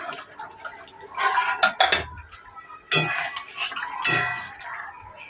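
Eggplant goes into a pan of thinly sliced frying potatoes for a parshe fish curry, bringing a run of metallic clinks and scrapes of utensils against the pan over a soft crackling fry, close and busy.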